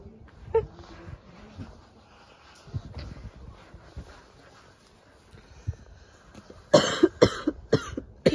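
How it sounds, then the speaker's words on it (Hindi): A person coughs several times in quick harsh bursts near the end, following quieter stretches of low voices and background movement indoors. "तुझे भी खांसी होने लग गई।"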